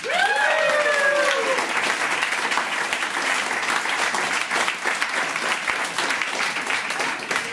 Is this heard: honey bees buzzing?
no